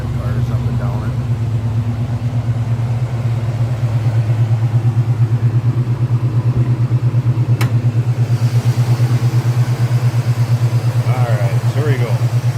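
A 1971 Chevrolet Nova's 350 V8 idles with a steady low, even rumble, close and continuous, while someone talks briefly at the start and end.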